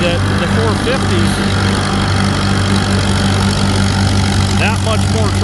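A tractor engine runs at a tractor pull, a steady loud droning rumble throughout, with people talking over it and crowd noise in the background.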